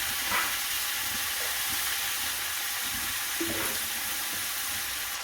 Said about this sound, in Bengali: এই যে মাংস কষাইতেছি, কষানো প্রায় হয়ে গেছে